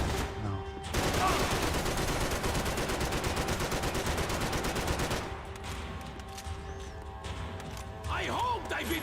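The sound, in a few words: gunfire in video game Max Payne 3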